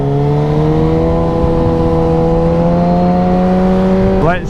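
A motorcycle with a straight-through exhaust holds a loud, steady engine drone at near-constant revs for several seconds, close up, then briefly shifts pitch at the end.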